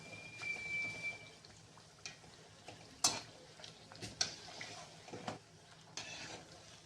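Puris fry in oil over a slow flame, with a soft, steady bubbling sizzle and a few sharp clinks and scrapes of a slotted spoon. The frying is quiet, and no one speaks.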